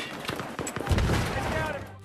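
Small arms gunfire in Battlefield 3 crackles in quick irregular shots, then swells into a heavier burst or blast, fairly loud with a voice talking over it.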